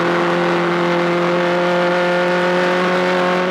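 A racing car accelerates hard with its wheels spinning, giving a loud, close engine roar held at a steady high pitch throughout.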